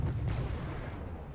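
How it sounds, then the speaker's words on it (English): T-72B1 tank in Wargame Red Dragon firing its main gun at infantry, a heavy, continuous low rumble of cannon and battle noise with no single sharp report standing out. "T-72B1 just having a bit of a fun time shooting at the infantry as it gets well popped"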